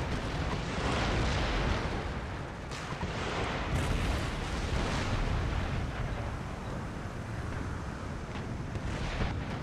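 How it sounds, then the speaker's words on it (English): Cannon artillery fire in the video game Empire: Total War, a dense rumbling barrage of booms with a few sharper blasts standing out, continuous and loud with no talk over it. "They've got two sets of cannon"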